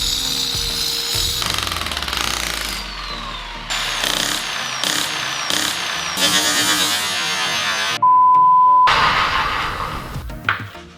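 Diamond cutter grinding into mortar on a garage concrete slope, a loud harsh whine that starts, stops and restarts in several bursts, with a steady tone near the end.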